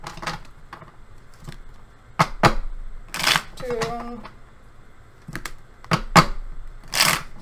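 Tarot cards are shuffled in several short, crisp riffling bursts spread across the moment, with a voice counting the shuffles between them.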